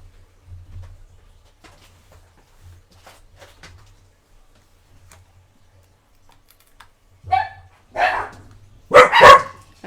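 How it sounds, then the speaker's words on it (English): Pet dogs indoors giving a few sharp barks near the end, loud and close, after quiet light tapping and handling noises. "Let me mute while my dogs bark."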